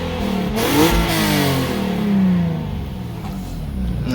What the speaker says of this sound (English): Give it a few revs, see if we hear any difference.